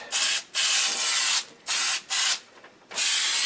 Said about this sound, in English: I'm going to, got this spray on from Permatex